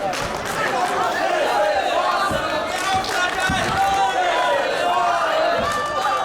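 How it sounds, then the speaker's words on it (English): A wrestling crowd in Berlin chants in unison at a GWF multi-man match, a dense, steady roar of many voices carrying a rhythmic chant throughout, with scattered thuds and shouts in the arena. "The crowd here in Berlin are chanting, "This is awesome,""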